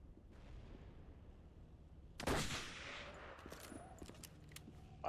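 A tank cannon fires once in the video game Battlefield 1942, a sudden loud boom rolling out over a steady low battlefield rumble, followed by scattered distant shots.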